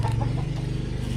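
Chickens cluck near Agusan Marsh in a low, dense, continuous chatter, close and fairly loud throughout, heard without talk.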